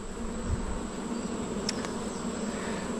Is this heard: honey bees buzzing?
yes